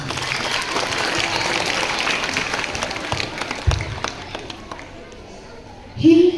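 An audience claps at a school performance, a dense round of applause that tapers off toward the end before a brief louder bump.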